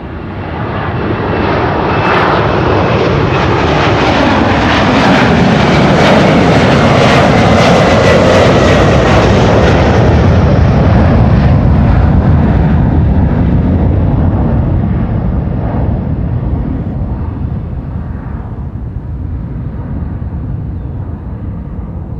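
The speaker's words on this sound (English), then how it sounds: "This is KLM flight 677 going to Calgary in Canada. A330-300." KLM Airbus A330-300 taking off at Schiphol, a loud, sustained jet roar that swells to a peak over several seconds and then slowly fades as the aircraft climbs away.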